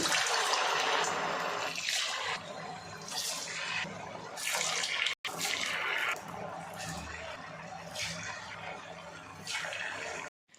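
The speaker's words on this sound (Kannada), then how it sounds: "ಎಣ್ಣೆ ಕಾದಿದೆ. ಈಗ ಇದನ್ನು ಹಾಕ್ತಾಯಿದ್ದೀನಿ." Onion rava rings dropped into hot oil, giving a loud, continuous sizzle and bubbling hiss that swells and eases in waves throughout.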